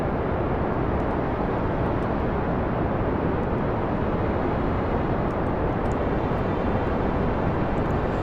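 Rocket engine roaring during a launch in Kerbal Space Program, a steady, loud, dense rumble that holds constant throughout with no breaks or talk.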